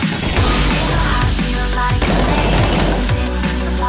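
Rapid bursts of gunfire from a Counter-Strike 2 match in a Kanaliiga league playoff, dense and loud throughout with layered shots and effects, no talking.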